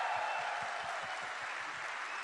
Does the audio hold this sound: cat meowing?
no